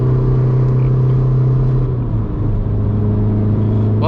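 A remapped car lapping the Nürburgring, its engine holding a steady loud drone from inside, pitch dipping briefly then settling again as it drives on.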